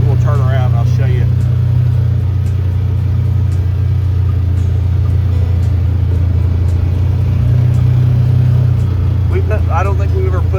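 A vehicle drives along steadily with a constant low engine drone and rumble throughout, near and fairly loud, while people talk briefly over it.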